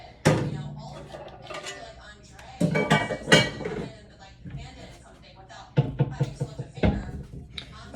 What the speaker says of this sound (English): First, I want to make sure I get my pan out.